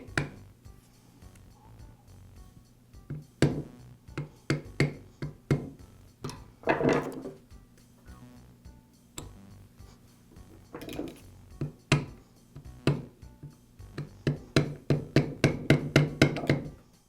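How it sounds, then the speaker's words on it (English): A rubber mallet taps a gear down onto the spindle of a Makita angle grinder during a spindle bearing repair, giving repeated close dull knocks in irregular bursts that quicken into a rapid series near the end. "I'll place the gear back over the spindle and tap it into place onto the spindle. And again, I'm using a rubber mallet so I don't damage the gears."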